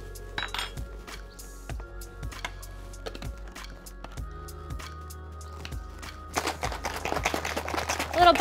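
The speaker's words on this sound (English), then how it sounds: "Little bicep workout as you shake it." Water, ice and a teaspoon of greens powder are shaken in a container, giving loose clinking and rattling of ice in a steady, moderately close rhythm that grows louder and denser toward the end.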